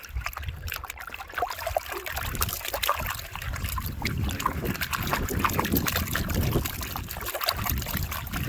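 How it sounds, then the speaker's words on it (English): Water sloshing and trickling as sluice material is swirled in a gold pan with water, worked one-handed; a steady, close, continuous wash of liquid with small splashes and no talking. "I have that sluice cleaned out, and it makes about 1 pan of material. And I'm going to try to pan this out with one hand."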